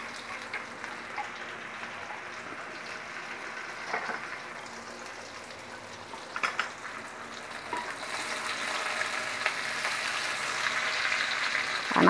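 Chili hits hot oil in a pan for cassava-leaf stir-fry, a continuous crackling sizzle that swells louder toward the end, with a few clinks of utensils and no talking.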